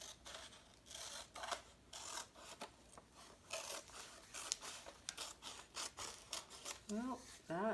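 Scissors cut through a paper calendar in a run of quick, close snips and rasps, with a brief rising squeak near the end.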